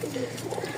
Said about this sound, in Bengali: এখন এক জোড়া কবুতর দেখে আপনাকে